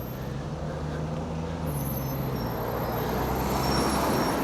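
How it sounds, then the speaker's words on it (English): Road traffic with buses in Aylesbury: a steady, nearby rumble of engines with a low droning hum and the wash of passing vehicles, swelling slightly toward the end, with no voices. "Traffic."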